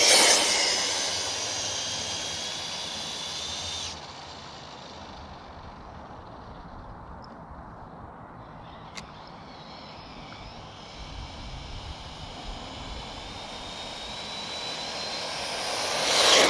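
A revived 1990s Losi RC car runs with its clutch slipping, its high engine whine loudest as it passes close at the start and end and fading to a distant drone in between.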